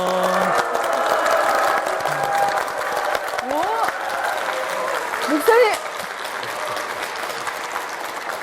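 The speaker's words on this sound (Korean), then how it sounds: "박수가 끊이질 않아요" A church congregation at Incheon Second Church breaks into sustained, enthusiastic applause and cheering as their senior pastor is welcomed, dense clapping filling the room while voices speak over it.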